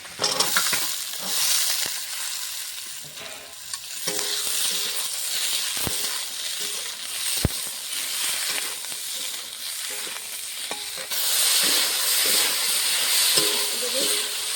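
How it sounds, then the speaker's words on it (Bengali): Potato and flat beans fry in a pan with a steady, close sizzle and hiss, broken by occasional sharp clinks of a utensil stirring against the pan. "সবজিটা ভাজা হচ্ছে"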